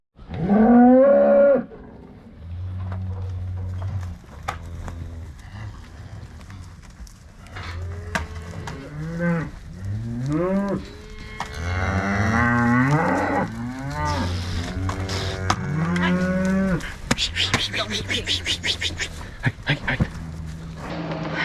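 Cattle calves of six to eight months bawl and moo repeatedly on a farm during weaning, several long, loud calls overlapping one another with steady low lowing beneath them.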